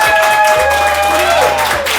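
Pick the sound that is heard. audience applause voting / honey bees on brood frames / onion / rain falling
audience applause voting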